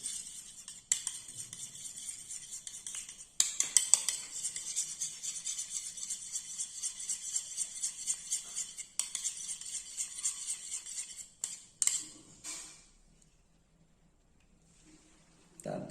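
Chicken pieces are mixed by hand with eggs to marinate for chilli chicken, giving a steady, soft, wet squelching with occasional light clinks of a bowl. The sound fades out near the end, leaving near silence.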